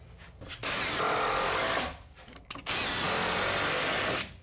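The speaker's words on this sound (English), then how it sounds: "This one is floating. It needs a screw as well." A power drill drives a screw into wall framing in two long, loud bursts of whirring motor, each winding up and cutting off sharply, close to the listener.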